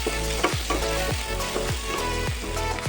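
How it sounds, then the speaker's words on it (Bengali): Potatoes and vegetables fry in a pan of shallow oil for an eggplant-potato curry, a steady sizzle broken by about five sharp stirring scrapes at roughly half-second intervals, close and fairly loud with no voices. "এটাও ভেজে নিচ্ছি"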